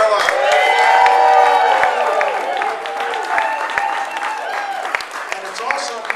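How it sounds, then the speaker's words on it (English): Audience applause and cheering at a theater company's 20th anniversary gala ball, a loud, dense wash of clapping with a few whoops that fades slightly over several seconds, close and sustained with no speech on top. "so how about another round of applause for Karla?"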